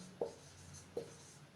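Chalk or marker strokes on a classroom board during a lesson make three short, distinct scratching marks, evenly spaced about three-quarters of a second apart, moderately close against a quiet room.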